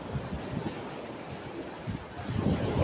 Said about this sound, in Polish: Jak widać, jesteśmy nad morzem, prawie że martwym